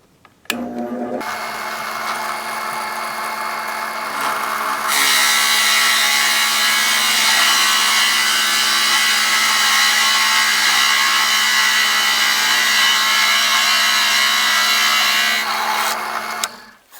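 A power drill boring an inch deep into wood to seat a leg bolt and washer, running steadily at close range for about fifteen seconds with the whine rising as the bit bites in.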